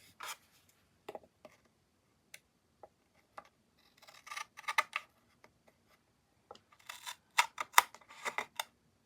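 Paper is snipped with scissors while decorating a planner card box, a few sparse close clicks followed by small clusters of crisp cuts and rustles against near silence, no voices.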